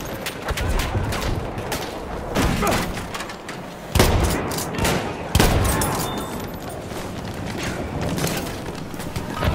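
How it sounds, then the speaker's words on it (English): Rapid gunfire crackles through a Battlefield 1 match, with dense bursts from a machine gun and other weapons, several sharp louder shots standing out, sustained and loud throughout. "Enemy machine gun over there."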